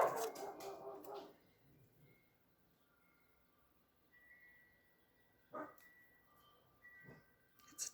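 A dog barks outside an open door, a burst of several quick barks at first, then single distant barks a few seconds apart, faint against a quiet room.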